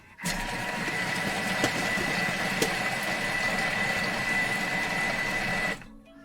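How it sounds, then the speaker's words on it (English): A Thermomix runs on reverse speed 4 mixing cracker batter, giving a steady, loud mechanical whir and rumble for about five seconds before stopping abruptly. "5 seconds reverse speed 4. And let's see if this works."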